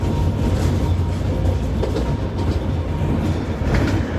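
A heritage tram rolls along tramway track approaching Colyton, with a loud continuous rumble and rhythmic wheel clatter over rail joints, heard from on board with no talking.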